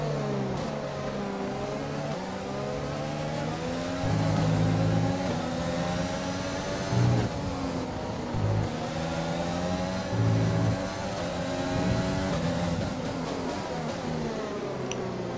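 A Formula 1 car in the F1 2020 game races around Bahrain, its engine whining and revving through repeated gear shifts, dropping and climbing again in cycles under a continuous loud drone.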